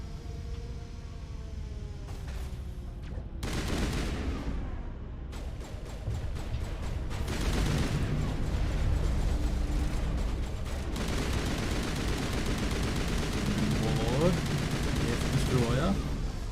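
Rapid bursts of automatic gunfire from a weapon in Mass Effect, loud and repeated in clusters, blending into a dense, continuous battle din with mechanical clatter through most of the stretch.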